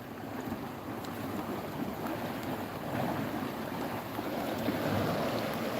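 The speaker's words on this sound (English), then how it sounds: "There's a really fast flowing river here." Continuous rushing water of a fast-flowing river forcing its way under a bridge roars steadily, a broad, dense wash of sound with no voices.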